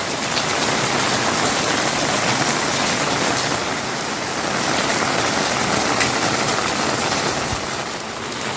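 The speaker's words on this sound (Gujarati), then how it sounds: "તમારા માટે હું છત્રી લઈને નીકળ્યો છું વરસાદ બતાવવા માટે" Steady rain pours down, a dense, even hiss of drops close by that holds at one loud level throughout, with no voices.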